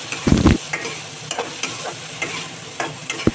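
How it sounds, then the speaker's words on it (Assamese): Pork stir-frying with turmeric in a pan for a dry fry: a loud sizzling burst near the start, then lighter scraping and stirring clatters at intervals, close by with no talking. "এই সকলোখিনি পুনৰবাৰ মই ভালদৰে মিক্স কৰি অলপ সময়ৰ কাৰণে ভাজি ল'ম"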